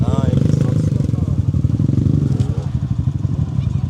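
An enduro motorcycle engine runs loud and close at an enduro competition in Manas, Kyrgyzstan, its rapid throbbing exhaust steady throughout, with voices talking over it.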